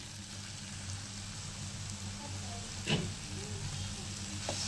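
Soya chunks fry in a masala in a pan, giving a faint, steady sizzle with a light crackle of stirring partway through, recorded up close at low level and with no talk.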